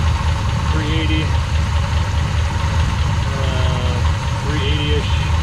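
A 1970 Chevelle engine idles steadily at low revs, a continuous mid-low rumble that stays even throughout, with no voices over it.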